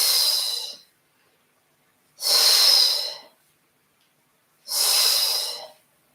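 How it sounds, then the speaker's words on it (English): Three deep breaths during a yoga session, each a long breathy exhale lasting close to a second, evenly spaced with quiet gaps between, close and clear with no talking. "Nice little cleansing breath."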